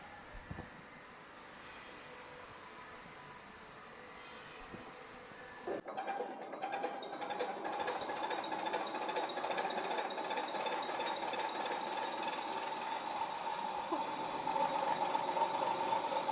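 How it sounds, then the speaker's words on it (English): A MINI12PSB diesel injection pump test bench drives a mechanical pump: a low, steady background hum shifts abruptly into a louder, continuous mechanical whir and rattle that holds steady and close for the rest of the stretch. "Now we will show you how to testing mechanical pumps on our MINI12PSB diesel injection pump test bench."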